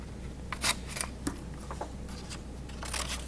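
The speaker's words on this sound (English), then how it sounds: "I'm going to cut right across the tippy top of these like this." Scissors snip through paper while cutting a castle craft, giving a few sharp, close crunching cuts spaced irregularly across a quiet room.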